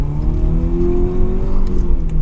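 A BMW E36 car engine drones loudly and steadily up close while attempting to drift, a sustained mechanical hum with slight shifts in pitch and no speech.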